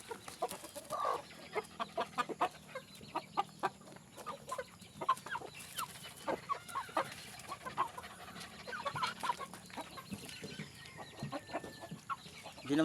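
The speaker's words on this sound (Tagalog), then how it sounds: "Ito yung manok no." Several chickens cluck and squawk repeatedly nearby, a busy, irregular chorus of short calls with occasional louder cries.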